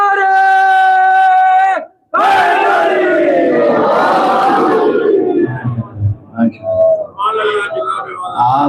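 A large crowd at a Majlis e Aza gathering in Karbala, Iraq shouts religious slogans in unison, loud massed voices answering a leader's call, with a brief pause and then broken, fading shouts.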